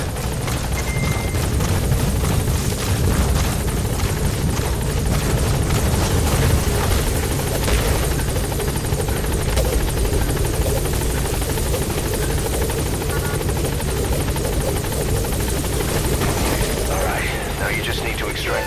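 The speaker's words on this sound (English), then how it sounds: "Support helicopter has arrived." A support helicopter's steady rotor drone in the video game Metal Gear Solid V fills the whole stretch, loud and constant, with game background noise layered over it.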